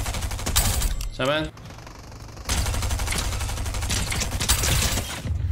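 Rapid bursts of gunfire from an online shooter match ring out in dense volleys, loud and close, stopping briefly then resuming, with a short voice cutting in between.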